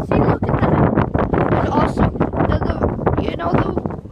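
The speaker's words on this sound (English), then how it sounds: "Oh my god, it's so windy." Strong outdoor wind buffets the microphone with loud, rumbling low gusts that rise and fall continuously, while a person talks through the noise.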